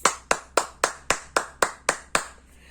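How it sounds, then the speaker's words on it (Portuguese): Hand clapping after a children's story reading: nine crisp, evenly spaced claps, close and loud, with no talking. "Quem gostou, bate palmas."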